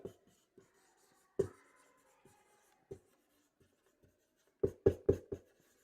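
Chalk or marker writing on a board during a class 10 chemistry lecture, sparse taps and short strokes, then a quick cluster of sharper knocks near the end, quiet and close with no speech.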